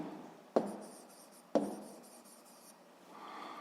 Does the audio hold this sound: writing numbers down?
yes